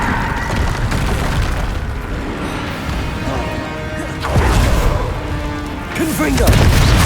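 A Confringo blasting spell from the video game Hogwarts Legacy erupts in heavy booming crashes over a constant rumbling battle bed, with two stronger impacts near the end and a voice calling out among the noise.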